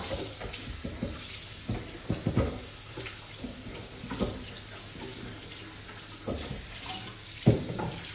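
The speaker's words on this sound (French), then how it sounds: "Je me rince les mains." Hands rinsed under a running kitchen tap, a continuous splashing water stream with irregular louder splashes and clatter near the sink, no speech.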